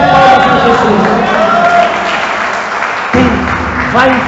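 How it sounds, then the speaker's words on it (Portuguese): A congregation applauds Jesus during a Catholic sermon, producing loud crowd clapping with some cheering. A voice keeps speaking over the clapping, which briefly dips before swelling again. "dê uma salva de palmas a Jesus"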